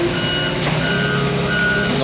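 A Ford pickup truck reverses with its engine droning steadily while a backup alarm sounds evenly spaced beeps, loud and close.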